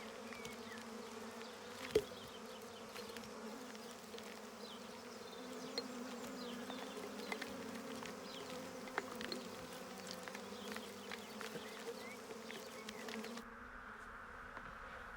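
Honeybees buzz continuously, a dense droning swarm hum with no talk, cutting off near the end.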